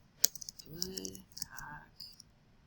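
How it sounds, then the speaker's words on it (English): Fingers tap out a name on a computer keyboard, a quick, close burst of light clicks and key presses, quiet and uneven in rhythm. "So now I can type my name."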